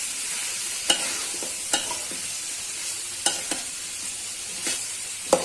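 Cauliflower and onion fry with turmeric in a pan with a steady sizzle and crackle, punctuated by several sharp scraping clicks of a spatula stirring at irregular intervals.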